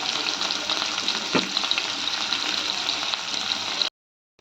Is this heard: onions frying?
yes